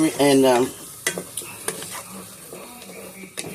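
Onions sauté in a pot with rotisserie chicken seasoning, with a steady sizzle and several sharp clinks of a spoon against the pot, after a brief burst of voice at the start.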